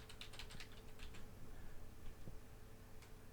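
A password being typed on a computer keyboard while Exchange 2003 is configured: a quick run of soft key clicks, then a few isolated taps spaced out, quiet and close with faint room hum beneath.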